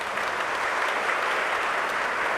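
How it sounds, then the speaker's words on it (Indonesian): A Catholic mass congregation breaks into dense, even applause, a continuous loud crackle of many hands clapping with no pauses. "kita beri tepuk tangan"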